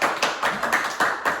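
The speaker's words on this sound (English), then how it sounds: "Huge applause for me again" Audience applause at a stand-up comedy show, steady clapping from a crowd for a second and a half with rhythmic pulses, fairly close and with no talk over it.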